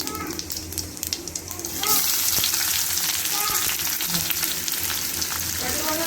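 Oil crackles softly in a pan, then a loud, dense sizzle bursts in about two seconds in as cumin and onion are dropped in, hissing steadily to the end.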